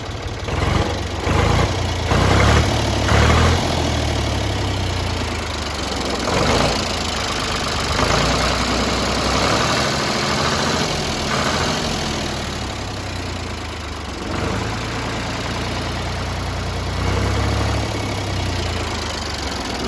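A Ford 3000 tractor engine idles after repair work, a steady mid-low chugging run with slight unevenness throughout, close and continuous with no talking.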